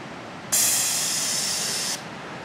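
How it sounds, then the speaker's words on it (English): A bear spray canister fires at a hiking trailhead: one loud, steady hiss lasting about a second and a half, starting and stopping abruptly, close by with no talk. "we decided that since we hike with bear spray most trips, yet we've never sprayed bear spray, we should probably test it out"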